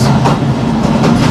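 A Pakistan Railways train passes Jamke Chatta railway station, heard from aboard as a loud, continuous rumbling roar with low heavy drone and faint rhythmic wheel clatter throughout.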